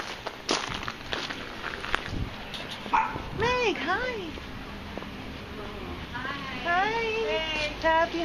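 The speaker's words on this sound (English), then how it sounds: "She's been barking nonstop." A small dog yips and barks in short bursts, some high whining cries, close by and mixed with footsteps and voices talking around it during a homecoming greeting.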